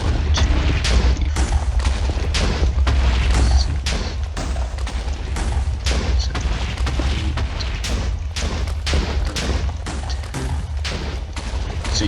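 Rapid, dense series of booming TNT cannon blasts in a block-building video game, a steady volley of loud thuds repeating throughout with no talking.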